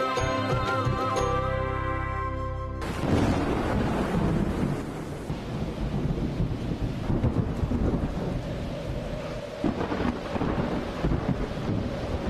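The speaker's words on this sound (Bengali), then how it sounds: "এই বিদ্যুৎ চমকাচ্ছে, ঝড় উঠেছে।" A thunderstorm in a Bengali TV serial scene opens with a few seconds of music, then heavy rain and low rolling thunder fill the rest of the clip, loud and close, with no talk.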